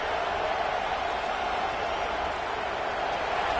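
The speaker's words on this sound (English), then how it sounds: "This crowd bringing the energy and noise early." A dense, steady roar of a large stadium crowd cheering at a Clemson vs Arizona State football game, continuous and loud throughout with no distinct voices standing out.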